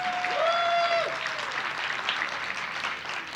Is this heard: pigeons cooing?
no